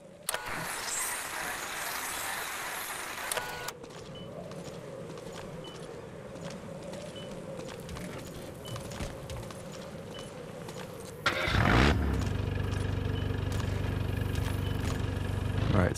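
A military vehicle in Metal Gear Solid V pulls away with its engine running steadily at a medium pitch, a shift in the engine note near the end, and no one talking.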